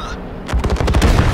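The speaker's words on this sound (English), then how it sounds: "Whoa, hello. Shit, that's an airstrike." Airstrike in World of Tanks bursts in at once as a rapid volley of loud, close blasts and crackling impacts, dense and rolling for about a second.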